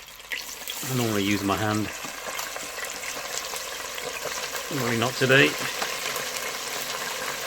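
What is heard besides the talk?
fish and chips sizzling in hot oil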